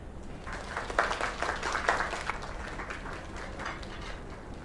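Faint, scattered video-game applause from a small group, with a few sharper claps standing out early before it settles into a soft, even patter.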